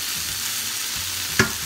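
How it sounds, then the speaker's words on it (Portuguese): Sun-dried beef (carne de sol) sizzles steadily in a pan as its fat renders, a constant hiss broken by a few soft stirring scrapes and one brief louder clink. "Porque isso aqui tá chiando e eu tô deixando aqui essa gordurinha soltar mais o sabor dela"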